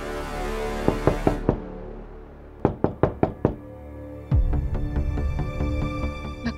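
Sharp knocks on a hotel room door come in two bursts, three quick raps then five louder raps, followed by background music.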